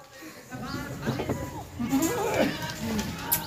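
Imported German and Rajanpuri Pakistani goats with young kids bleat several times at close range, their wavering cries mixed with people talking nearby.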